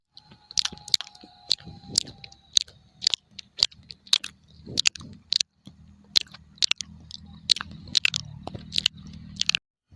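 Cartoon characters eating rice with mashed potato, mashed dried fish and fish curry: repeated crisp bites and wet chewing in a steady rhythm, close and clear with a faint hum beneath.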